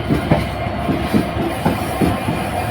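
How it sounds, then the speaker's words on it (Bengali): The Banalata Express rolls through Ibrahimabad railway station past the Chitra Express, its wheels beating a steady, close clickety-clack over a constant loud rumble. "ক্রসিং হয়ে যাচ্ছে খুলনা ঢাকার মধ্যে চলাচলকারী আন্তনগর চিত্রা এক্সপ্রেসের সাথে।"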